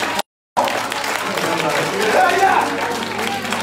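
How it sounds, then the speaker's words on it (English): Church congregation clapping hands in praise during a worship service, a steady wash of applause after a brief silent gap, with voices mixed in throughout. "Clap your hands and praise God."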